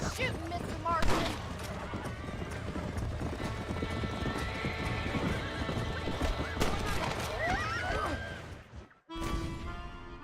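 Horse in the Red Dead Redemption video game whinnies and neighs amid clip-clopping hooves and gunfire, loud and close, with game dialogue and a player talking over it before a sudden silence near the end.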